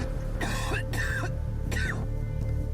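Several people cough in short harsh bursts, three distinct coughing fits close by over a constant low droning background.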